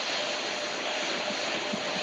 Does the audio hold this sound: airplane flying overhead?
yes